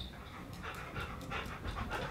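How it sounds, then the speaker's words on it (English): Dogs pant quickly and rhythmically close by, a soft breathy huffing in a workshop where a fly-tying craw pattern is being tied. "What would a video be without interference from dogs?"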